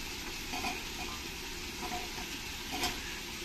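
Vegetables including potato, carrot, beans and soybean chunks sizzle steadily in spiced oil for a vegetable pulao, with soft intermittent scrapes and clinks of a spoon stirring the pan close by, no talking.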